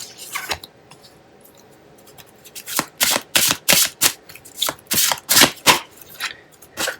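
Tarot cards being shuffled up close, a quick irregular run of crisp riffling bursts that grows louder and denser in the second half, with no talking.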